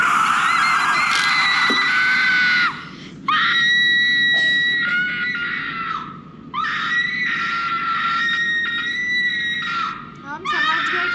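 High, sustained screams from a short horror film, several long wailing bursts separated by brief gaps, loud and close throughout.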